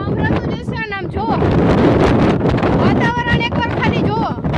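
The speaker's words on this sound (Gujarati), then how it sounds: "પવન તો ફૂલ આવે, તમને ઓલરેડી સંભળાતું જ હશે" Strong wind gusting across a rooftop terrace during a storm, a steady loud roar and buffeting against the microphone throughout, with people talking over it.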